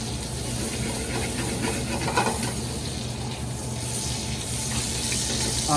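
Butter sizzles steadily in a hot pan alongside duck, a continuous hissing crackle that stays fairly even and close throughout with no talking.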